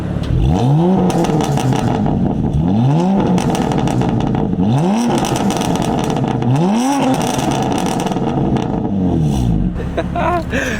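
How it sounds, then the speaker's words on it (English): A loud BMW F80 M3 exhaust revs repeatedly while standing, each rising rev followed by crackling pops and burbles from a tuned burble setting, with a deep rumbling idle throughout. "That is the OEM competition or ZCP burble imitation."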